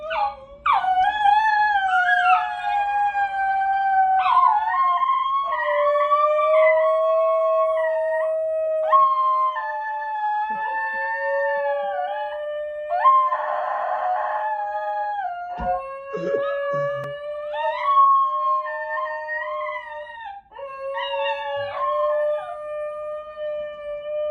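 A dog from pre-colonial Africa howls in long, wavering, yodel-like cries that rise and fall in pitch, loud and close, continuing alone with only brief breaks.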